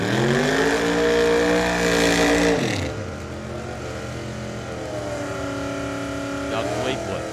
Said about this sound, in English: Fleetwood with the Camaro. Coons with the Challenger.